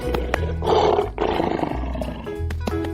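A lion in a children's animal transformation animation gives a single loud, close, rumbling roar lasting about a second, then a lower growling tail over faint background music.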